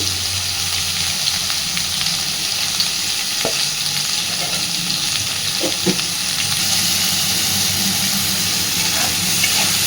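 Potato and pointed gourd frying in a pan, a loud steady sizzle and hiss with a few soft stirring knocks, close up, no one talking.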